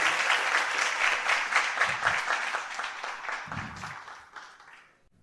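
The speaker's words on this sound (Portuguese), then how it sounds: "Agora uma salva de palmas para essa atriz espetacular, Lohane Costa." A theater audience applauds an actress at the end of a show, a steady wash of many hands clapping that fades gradually over about five seconds, with a brief low murmur of voices partway through.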